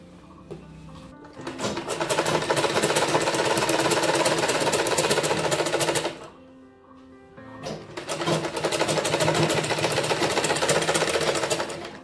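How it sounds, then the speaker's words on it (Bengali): A sewing machine stitches a round shirt collar, running in two long, loud, fast-rattling bursts separated by a short pause. "এভাবে আমি পুরোটা সেলাই করে নেব গোল করে।"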